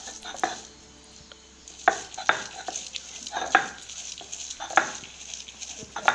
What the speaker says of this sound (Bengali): আর ডালগুলো আমি যে শিলে বাটা করে নিচ্ছি